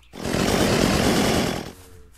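Chainsaw in the zombie survival game Unturned, a loud, close, rough snarling buzz that starts abruptly, holds steady for over a second and then cuts off, with no talk over it.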